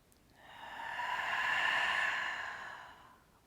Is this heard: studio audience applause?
no